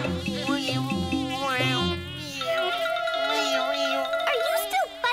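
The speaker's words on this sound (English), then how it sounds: "I make sound with my wings." A cartoon insect buzzes with its wings in a children's animated show, a steady whining drone with shifting pitch over a tonal music bed, up close and continuous.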